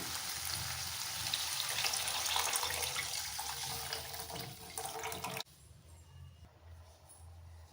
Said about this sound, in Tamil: இது கூட கரைச்சி வச்சுருக்கிற புளி தண்ணி சேர்த்துக்கலாம்